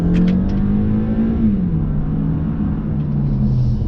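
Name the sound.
2020 Toyota Camry accelerating at full throttle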